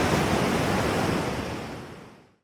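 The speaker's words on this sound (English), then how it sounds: "high quality stereo ocean sounds of rolling waves for deep sleeping" Stereo ocean waves roll and wash onto a shore in a steady, dense hiss of surf that stays loud throughout, then quickly fades to silence at the end.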